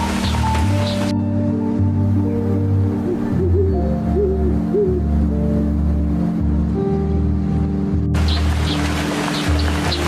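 An owl hoots softly in a snowy, wintry setting as a few short hoots rise over a steady, loud bed of ambient music and wind-like noise.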